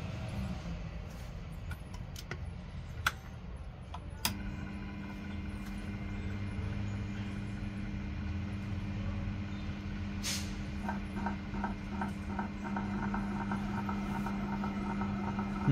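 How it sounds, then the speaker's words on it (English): A Proxxon mini lathe turns while its parting blade rubs against 304 stainless steel instead of cutting, giving a faint steady motor hum with a low whine, a few clicks early on and a soft rhythmic scraping later. "Now starting to try cutting this stainless steel, but things doesn't go as I wanted. It's not started cutting, only rubbing the piece."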